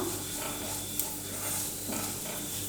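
Spice powders sauté in a pan ahead of a mutton liver fry, giving a quiet, even sizzle with soft spatula scraping and one small tap, close up and without voices.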